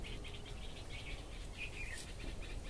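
Birds chirp and call repeatedly in an urban forest in Kolkata. The short high calls are faint and sit over a low steady background hum, and no one speaks.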